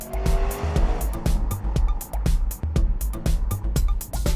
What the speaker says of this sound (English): this engine produces a lot of growl, and the exhaust is perfect.